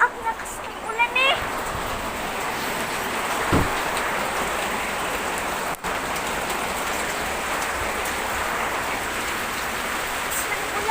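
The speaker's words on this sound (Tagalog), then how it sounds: "Ang lakas ng ulan eh." Heavy rain pours steadily for the whole stretch, a loud, dense hiss with only slight dips, while voices occasionally sound faintly beneath it.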